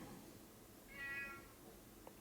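A cat gives a single short, soft meow partway through, quiet against a low background hiss.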